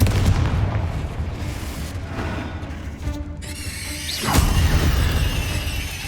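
A Confringo fire spell bursts in Hogwarts Legacy, a loud booming blast that swells mid-clip over constant rumbling combat noise and crackling debris.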